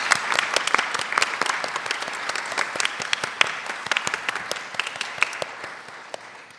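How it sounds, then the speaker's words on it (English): Audience applause for panelists at a university symposium, a dense crowd of individual hand claps with distinct sharp hits, sustained and fairly close before tapering slightly at the end. "would you all join me in a round of applause for our amazing panelists?"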